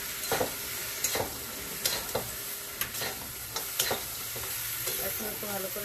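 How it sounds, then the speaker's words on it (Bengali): Mixed vegetables sizzle steadily in a frying pan for a vegetarian dish, with a spatula stirring them and clacking against the pan in repeated scrapes. "এখন একটু ভালো করে নেড়ে চেড়ে দেবো।"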